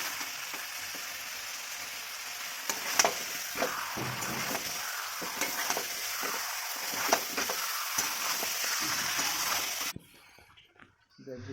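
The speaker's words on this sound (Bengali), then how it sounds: "আলুটা দিয়ে আবার কষাবো।" Chicken curry with potatoes sautéed in a pan, a dense sizzle with repeated stirring scrapes for about ten seconds, then a sudden drop to near quiet.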